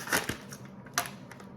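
A knife chopping ingredients for Lao meatballs on a cutting board, a few quick crisp cuts close by, spaced irregularly over a quiet kitchen background.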